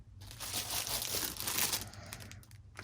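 A crinkly plastic packaging bag being handled and opened, giving a close, continuous rustling crackle that swells and fades over a few seconds with no talking.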